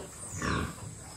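Pigs on a farm grunt in a low, rough burst that peaks briefly mid-clip, fairly close, with a steady background hiss and no talking.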